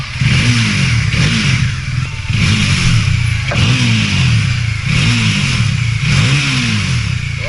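A Bajaj Dominar 400 with an aftermarket SC Project exhaust revs repeatedly, rising and falling in regular bursts about a second apart, loud and close, with a deep throaty exhaust note.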